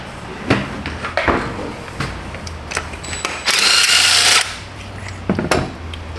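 A tight spark plug on a 2020 Honda CR-V 1.5 turbo engine is worked loose with a tool: scattered sharp metallic clicks and knocks, then a dense second-long whirring burst, close and loud.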